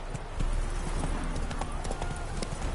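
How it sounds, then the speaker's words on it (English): A horse gallops in The Witcher 3, its hooves beating a fast, steady clip-clop close by through the whole stretch, with a faint background bed of game ambience. "Run, Roach."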